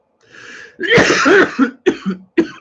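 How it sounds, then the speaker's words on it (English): One loud, harsh cough close to the listener, followed by a few shorter rasping coughs. "Sorry for the cough. I'm coughing a lot today."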